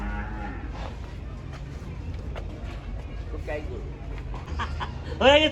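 A large Sahiwal cow moos at the Gabtoli cattle market amid constant crowd noise and nearby talk, with a louder call near the end.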